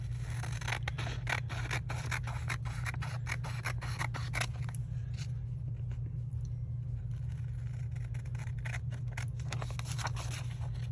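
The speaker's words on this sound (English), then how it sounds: "Now I'm going to go ahead and trim this down a little bit smaller." Scissors trim a paper shaker embellishment for a Christmas card, a run of quick crisp snips close up that thin out partway through, with a steady low hum underneath.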